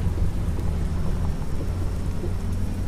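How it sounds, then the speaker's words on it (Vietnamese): Heavy rain with rolling thunder in a driving video game with a pink Nissan Titan, a dense, loud, unbroken roar of downpour and low rumble, no talk. "Cho cái đoạn này nó hơi có nước, đang trời mưa nữa."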